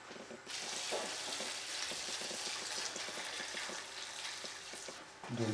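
Boiled red wine goes into pans of lamprey, giving a steady sizzling, bubbling wash of liquid that runs continuously for several seconds, close and with no voices.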